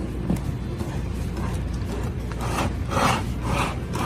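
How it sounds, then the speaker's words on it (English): A wire whisk scrapes and grinds against the bottom of a bowl while folding egg whites for chiffon cake batter, a close, continuous rasping with scratchier strokes toward the end. "Scratch the bottom of the bowl without lifting the wire whisk out of the bowl."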